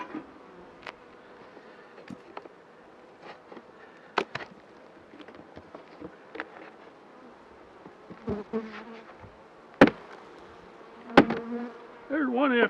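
Honeybees buzz steadily during a full beehive inspection on a hot day, with individual bees droning close past at intervals and louder buzzing passes near the end.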